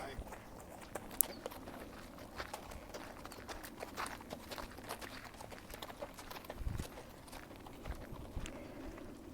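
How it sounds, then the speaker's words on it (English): Horses passing on an Arizona trail, a faint, irregular clip-clop of hooves at moderate distance throughout, with a person speaking now and then over the steps. "I need to wait till these horses pass before I can continue"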